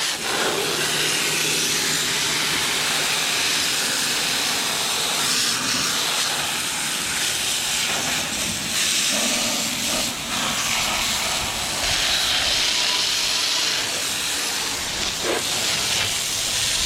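Super Clean cleaner is sprayed onto a new Bobcat in a sustained, close, loud hissing spray wash that varies slightly in intensity.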